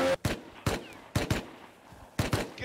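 Video game gunfire: a few sharp, loud shots in irregular bursts, separated by short quiet gaps with faint background noise.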